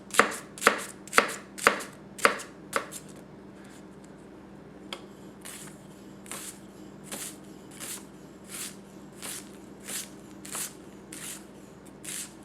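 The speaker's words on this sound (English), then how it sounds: "we'll do some rock cuts on this next onion for you" An onion rock-chopped with a Tanaka Kurouchi 210mm gyuto knife, with a quick run of sharp, close blade strikes on a board, then softer, evenly spaced taps continuing alone.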